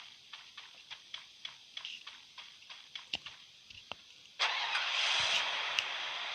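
A quad bike in a mobile video game clicks rhythmically about a dozen times, then its engine starts and settles into a steady hum, all faint and with no talking.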